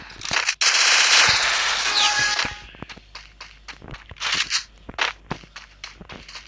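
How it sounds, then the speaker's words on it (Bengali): An MP40 submachine gun in the Free Fire video game lets off a loud, close burst of rapid automatic fire, followed by scattered single shots, clicks and footsteps. "এখন আমি এখান থেকে MP40টা নিয়ে নিলাম।"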